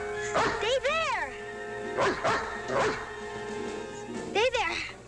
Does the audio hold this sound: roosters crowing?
no